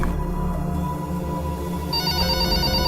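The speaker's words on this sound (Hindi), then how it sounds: "मैंने सुना कि मेरे घर का फ़ोन लगातार बज रहा है" A home telephone rings continuously in an animated horror story, a steady electronic trill repeating close and loud with no voices over it.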